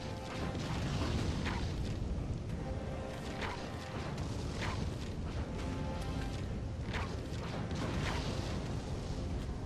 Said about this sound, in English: they'll set off a simultaneous kind of explosion